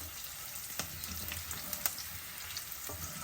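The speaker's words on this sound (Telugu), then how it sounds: "కొంచెం నేతిలో వేగితే బాగానే ఉంటాయిలే కదా కాజు కొంచెం కలర్ చేంజ్ అయ్యే వరకు ఉంచుదాం" Cashews frying in ghee for a moringa dal, a steady close sizzle with faint crackles and a few sharp pops, no voices.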